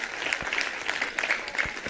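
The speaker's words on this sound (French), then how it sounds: "Je voulais que vous les applaudissiez très très fort." An audience at a school ceremony claps steadily for students of Saint Antoine de Padoue school in Koungheul, a dense continuous applause throughout.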